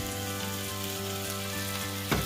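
Chicken thighs frying in a pan for Filipino afritada, a steady dense sizzle that stays loud and even throughout, close up, ending with a brief louder crackle.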